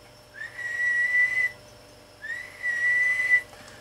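A person whistles two sustained steady tones into the microphone of a D&A Phantom 500 classic 12-tube dual-power linear amplifier, each held about a second with a short gap between, loud and close over a low electrical hum.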